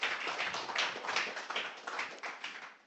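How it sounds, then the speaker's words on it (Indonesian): A church congregation at a Sunday worship service claps together in a quick, rhythmic burst of many hands. The claps come in even pulses and fade out toward the end. "Tepuk tangan buat Allah kita."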